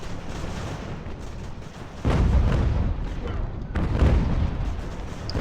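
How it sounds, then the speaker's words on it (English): Cannon in Ultimate General: American Revolution fire in two heavy booming blasts about two seconds apart, each rolling off over a constant low battlefield rumble. "So these cannon hopefully fire a shot right into them."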